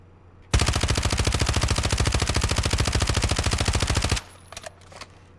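A sustained burst of rapid automatic gunfire on a video game firing range, loud and close, about four seconds of evenly spaced shots that stop abruptly, followed by a few faint clicks.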